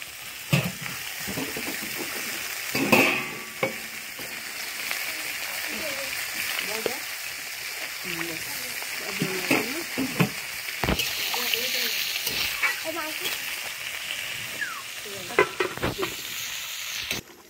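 Water added to sizzling spice paste for a tilapia curry, followed by repeated scraping and stirring in the pan, with a voice talking intermittently over the steady sizzle.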